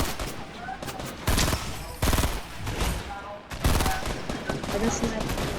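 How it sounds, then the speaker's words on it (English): Gunfire in a Fortnite match comes as repeated sharp bursts of shots, several loud volleys at irregular intervals over continuous game noise, with a player's voice partly audible. "Oh, somebody just shot me."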